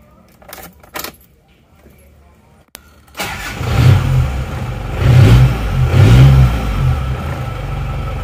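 A Panther car engine cranks after a few quiet key jangles and catches at about three seconds, then settles into a loud running rumble with several rising revs, close to the listener.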